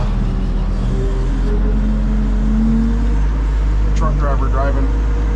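Heavy trucks speed past on the I-75 highway beside an accident recovery scene, a steady loud roadway rumble with engine drone rising and falling as each truck goes by, while someone talks over the traffic.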